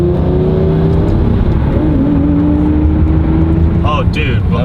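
Lamborghini with a single-clutch gearbox driving on a road behind dump trucks, its engine droning loudly and steadily with pitch rising and settling as it revs, and a short voice sounding near the end.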